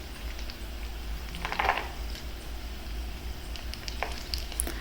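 Cashew nuts frying in a pan for Kerala parippu payasam, a steady soft sizzle with a brief burst of crackling partway through, no voices.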